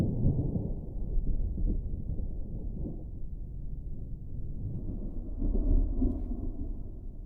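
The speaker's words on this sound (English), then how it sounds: "No, that was thunder, Yambari." Deep rolling thunder from a storm rumbles continuously for several seconds, low and muffled at a distance, swelling briefly louder near the end before fading back.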